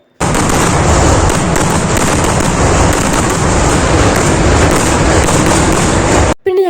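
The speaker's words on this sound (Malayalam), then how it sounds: "അപ്പോൾ ഇതാണ് കേട്ടോ നമ്മുടെ വെടിക്കെട്ട്" A fireworks barrage at the Kavassery Pooram temple festival crackles and booms in a dense, unbroken roar. It is loud and close throughout and cuts off abruptly near the end.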